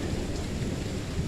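A night thunderstorm brings heavy, steady rain with low, rumbling thunder rolling underneath, close and continuous throughout.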